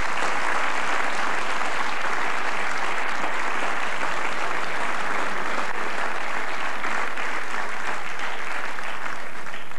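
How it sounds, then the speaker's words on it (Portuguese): Studio audience applauding for Marco Paulo on a Portuguese television talk show, a dense, loud, sustained wave of clapping holding steady throughout without any break. "Palmas para o Marco Paulo."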